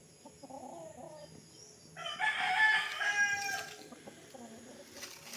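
Roosters crow loudly nearby, one long call overlapping another, with softer clucking and a few quiet murmurs before and after.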